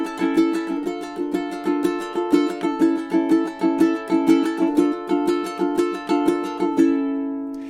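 Ukulele strummed in a fast triplet pattern on a Spanish-inspired etude, with crisp, evenly repeating rhythmic strokes that ring close and clear before a final chord sustains alone.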